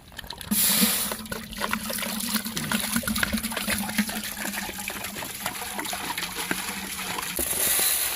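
Water is poured while lemon rice is cooked outdoors in village style for two hundred people, a continuous liquid pour and trickle running for several seconds, near and steady, with a low hum underneath.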